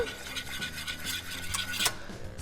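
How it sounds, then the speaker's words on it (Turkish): Cream whisked quickly in a bowl for profiteroles, a brief run of fast rhythmic scraping and clinking of a utensil against the bowl, close and clear. "Hızlıca karıştırıyorum."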